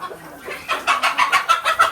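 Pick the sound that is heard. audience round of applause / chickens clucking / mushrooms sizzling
chickens clucking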